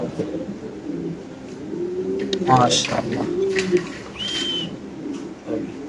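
Lahori pigeon chicks coo in soft, low repeated calls amid nearby chatter, with a voice speaking over them and a few higher chirps breaking through.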